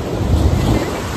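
Ocean water surging into rock pools on a windy shore, a steady loud wash of surf with heavy wind buffeting throughout, no talk.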